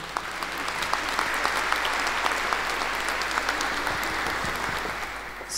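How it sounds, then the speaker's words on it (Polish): A concert audience at a charity Christmas and New Year concert in Bytom claps warmly, a full, continuous wave of applause at steady volume that eases slightly toward the end, with no talk over it. "raz jeszcze ogromne brawa"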